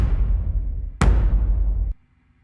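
Two heavy, thumpy percussion hits from Heavyocity's Damage 2 sample library, one after another, each a deep punchy strike with a short ringing decay before cutting to near silence.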